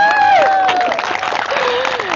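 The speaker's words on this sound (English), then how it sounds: "didn't think I'd get a big applause for that" An audience in a hall breaks into a short burst of applause and cheering, loud and close, with voices mixed into the clapping.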